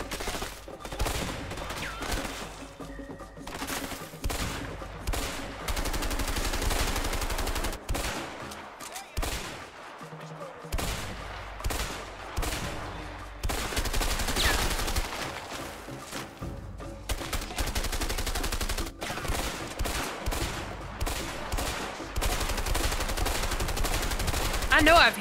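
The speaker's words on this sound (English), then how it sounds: "I shot the guy on the machine gun." Machine gun fire in the video game A Way Out, long dense rapid bursts of gunfire that are loud and close, with brief pauses between volleys.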